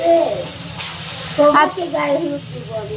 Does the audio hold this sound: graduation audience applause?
no